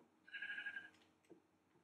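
A single short sheep bleat from the Minecraft video game, a nasal tone heard once, fairly quiet, followed by faint clicks.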